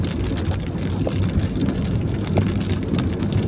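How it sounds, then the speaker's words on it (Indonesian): Heavy rain pours steadily, a dense, constant hiss and patter of drops on surfaces with low rumbling underneath, close and unbroken throughout. "Kayaknya hujan mulai deras ini, mulai mengguyur perlahan-lahan deras."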